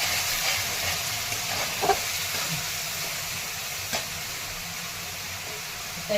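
Garlic, ginger and chopped tomato sizzling steadily in hot oil in a pan for a chana masala, a continuous soft crackling hiss with a few brief louder pops and stirring scrapes.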